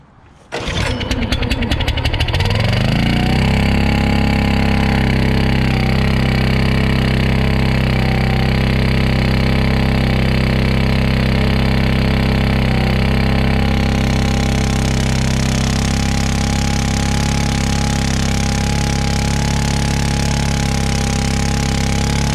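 A small gas engine on a wood splitter, its exhaust previously clogged by mud wasps, catches on the first pull and settles into a loud, steady, close running drone that holds for about twenty seconds.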